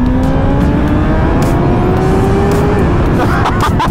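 A 2022 Suzuki GSX-R1000R sport bike with a flashed ECU revs high, its engine a loud, sustained whine rising steadily in pitch before dropping off, with wind rush and brief voice sounds over it.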